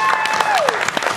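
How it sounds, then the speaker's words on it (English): Audience applauding at a church drama performance, a short dense patch of clapping heard close, with a brief tonal sweep sliding down through it. "Let's welcome our contestants to the show with a round of applause"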